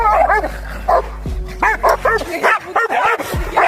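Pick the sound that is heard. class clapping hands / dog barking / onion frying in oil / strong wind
dog barking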